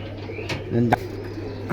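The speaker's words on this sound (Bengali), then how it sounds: "কোবরা এক জোড়া কবুতর" A pair of Cobra pigeons giving a short, soft coo amid a few clicks and rustles, close by against a steady low hum.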